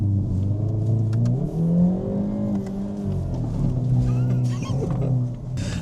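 A car engine revs and changes pitch as the car weaves through a slalom near the Nürburgring, a loud close drone rising and falling in smooth sweeps.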